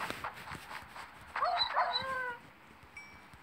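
A dog whimpers and yips with a rising, whining cry mid-clip, close by, over a faint background of soft tapping noises.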